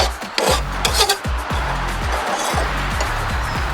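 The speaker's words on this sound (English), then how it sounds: "I'm just going to kind of get any burrs that I might feel off of there." A hand file rasps burrs off a handmade metal roof rack bracket for a vintage VW Bug or Bus, in a steady series of close, rhythmic strokes with no voices.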